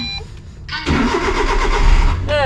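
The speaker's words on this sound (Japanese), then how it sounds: "で、エンジンかけようか。" A Suzuki Every DA64V van with a five-speed manual gearbox cranks and starts close by: a brief starter whir, then the engine catches and settles into a loud, steady running note.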